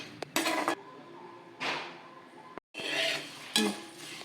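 Paddy puffs roasting in a pan as they are stirred, giving several loud bursts of dry rattling and scraping separated by short quieter gaps, close by.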